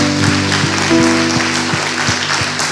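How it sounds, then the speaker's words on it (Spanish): Church congregation applauding during a worship service, continuous clapping blended with sustained organ or keyboard chords and rhythmic beats underneath. "Vamos a darle un fuerte aplauso al Señor."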